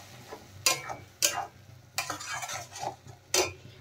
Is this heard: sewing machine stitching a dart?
no